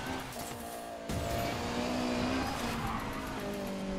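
A car drifts and loses control in Need for Speed Payback, with the engine revving loudly and tires squealing steadily throughout, the pitch shifting as the slide continues.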